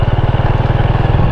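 A Honda XRM 125 semi-automatic motorcycle engine revs up close, a steady, throbbing low drone with fast regular pulses that holds at an even, strong level throughout.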